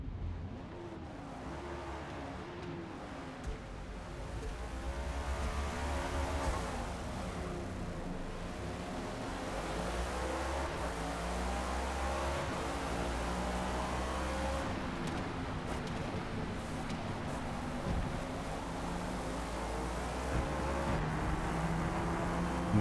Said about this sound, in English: This car does not like full throttle unless you're absolutely dead straight.